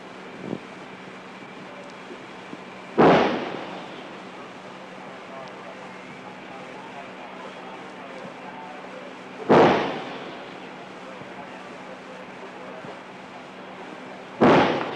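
Artillery salvos from the Vietnam War boom in three separate heavy blasts several seconds apart, each decaying into a rumbling tail over steady background noise.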